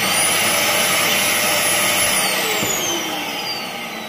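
A Philips PowerPro Active FC8632 vacuum cleaner motor, partly taken apart, runs with a loud, steady whine and broadband roar, easing slightly in level toward the end.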